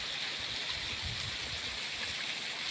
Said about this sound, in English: This is the longest elevation I've ever seen